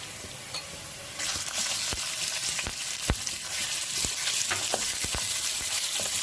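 Chicken pieces go into browned onions in a hot pan for chicken kaleji matar, setting off a steady, close, broadband frying sizzle with scattered sharp pops and crackles over several seconds, with no voices.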